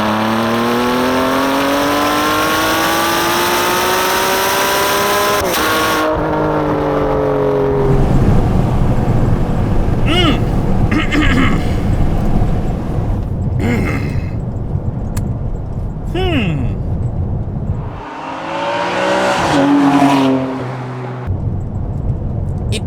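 A Ferrari 599 GTB Fiorano driven hard, heard from the cabin: the engine climbs through rising revs, drops on gear changes, then pulls again, loud and near throughout.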